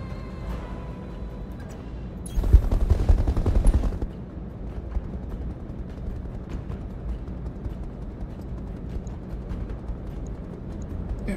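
Weapons fire during mech combat in BattleTech with the Roguetech mod: a short, loud rattling burst of rapid shots lasting about two seconds, set against a low steady rumble before and after.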